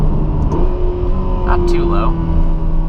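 A Ferrari California T engine rumbles steadily from inside the cabin while someone talks over it, the drone holding fairly even as the car moves along.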